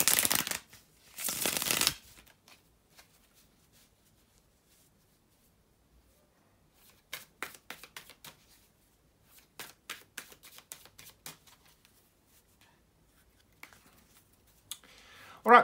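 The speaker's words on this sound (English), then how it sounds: "bear with me just a couple of seconds here to shuffle the tarot cards" Two bursts of tarot card shuffling at the start, then quieter scattered clicks and riffles of tarot cards being handled, with soft faint sounds late on.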